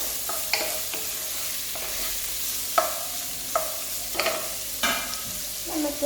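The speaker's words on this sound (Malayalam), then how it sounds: "നമുക്ക് ക്യാരറ്റ് അരിഞ്ഞത് ഇട്ട് കൊടുക്കാം. നമുക്ക് മിക്സ് ചെയ്യാം." Chopped carrots stir-fried for fried rice, a constant sizzle broken by repeated spatula scrapes and clanks against the pan at uneven intervals, close and clear, no speech.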